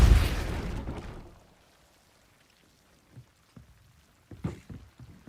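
A Depulso force spell cast in Hogwarts Legacy: a loud whooshing blast that decays over about a second, followed by silence and then a few scattered soft thuds and clatters.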